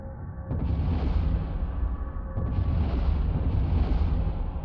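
Rocket parts burst apart in Kerbal Space Program, a loud, continuous rumble of explosions with repeated crackling pops and deep booms rolling over one another without pause.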